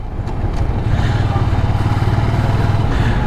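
A Ducati Scrambler's L-twin motorcycle engine rumbles steadily up close with a deep, throbbing low-end idle, loud and continuous with no voices.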